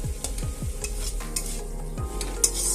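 Potato curry being stirred in a pan, a spoon scraping and clinking against the pan in quick, uneven strokes over a soft, steady sizzle, close and moderately loud with no voices.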